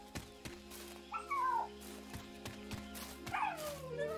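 Puppies in the KeepUp Survival video game yip and bark in short bursts over a steady game soundtrack, with a couple of higher whining yelps standing out near the start and again toward the end.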